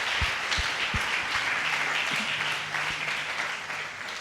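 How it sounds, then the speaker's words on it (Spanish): A church congregation applauds in a large room, steady broad clapping at moderate volume with a few louder individual claps, no talking over it. "denle ese aplauso al Señor"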